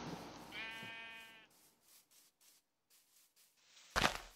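Sheep bleating in the Minecraft video game: one clear wavering bleat rings up front, followed by quieter scattered game sounds and a sharp burst near the end, with no talking.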